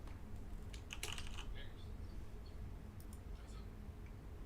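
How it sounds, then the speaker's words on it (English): Computer keyboard keys clack in quick irregular bursts during typing, faint and close against a low background hum. "you hear me clacking on my keys"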